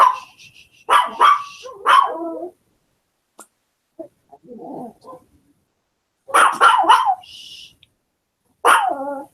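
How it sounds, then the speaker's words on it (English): A pet chihuahua barks in several sharp bursts, loud and close, separated by pauses with a few softer yips and whimpers in between. "I'm sorry, I can't hear good over the dog."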